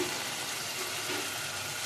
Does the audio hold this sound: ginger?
yes